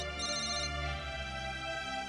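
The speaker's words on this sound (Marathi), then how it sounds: "वा, आदित्यचा फोन आहे." A phone rings with a sustained, tonal ringtone melody that holds steadily and evenly loud for the whole stretch, with no talking over it.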